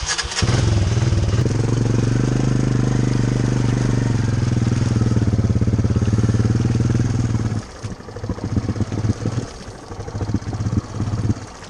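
A 300 dirt bike engine, recently submerged several times, revs loud and close, holding a steady buzzing drone, then drops into a choppier, sputtering idle.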